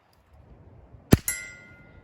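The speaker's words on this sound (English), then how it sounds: "Sounds like a pellet gun. Feels like a pellet gun." A suppressed Smith & Wesson 22 Compact pistol fires a primer-only CCI round: one sharp, quiet crack followed a moment later by a second metallic snap with a short ringing tail, heard alone after low background hiss.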